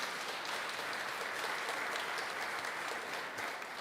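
Congregation applauding during a Sunday Mass in church, a soft, even wash of many hands clapping that carries on steadily at a modest, somewhat distant level, without speech.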